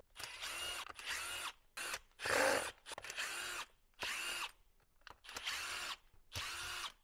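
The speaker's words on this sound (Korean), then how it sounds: "T10 사이즈의 별비트로 이렇게 나사를 전부 풀어 주도록 하겠습니다" Short bursts from a power driver fitted with a T10 Torx bit back screws out of a Milwaukee M18 FHZ cordless mini reciprocating saw's housing, seven or eight close, loud whirring runs of about half a second each, separated by brief silences.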